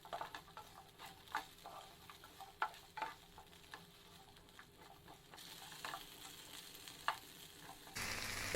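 Capsicum pieces frying gently in a pan over a low flame, a soft continuous sizzle dotted with small pops and scattered stirring clicks, close and fairly quiet.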